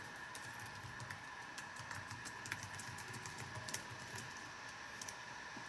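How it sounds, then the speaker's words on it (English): Rapid, forceful typing on a computer keyboard, with a continuous patter of sharp key clicks and occasional louder strikes over a low steady background hum, no voices. "The typing ASMR? The aggressive typing, probably."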